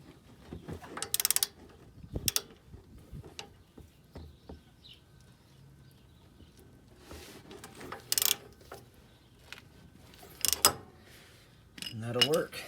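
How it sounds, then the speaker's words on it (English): Wrench tightening bolts on the rear brakes of a Buick Enclave: scattered ratcheting clicks, creaks and metallic knocks, close by and sparse, with quiet gaps between them. "I will have to put that wrench back on and tighten them up"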